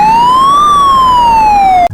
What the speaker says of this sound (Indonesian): ternyata mobil ambulans